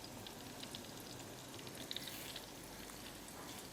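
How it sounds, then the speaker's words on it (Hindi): Whole spices and ginger-garlic paste fry in hot oil for a chicken korma, giving a steady, soft sizzle with faint crackling pops throughout, fairly quiet and with no talking. "अब इसको अच्छी तरह से हमने फ्राई करना है इस ऑयल में।"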